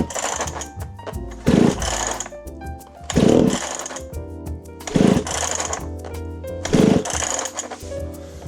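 Recoil starter of a Tanaka chainsaw that will not start, pulled four times in a steady rhythm, each a loud close ratcheting whir with brief sputtering engine turnover, no engine catching in between.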